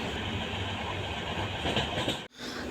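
Steady, loud rumble of a moving train on the rails at night, heard from inside while lying in a berth, continuous before a brief sudden dropout near the end.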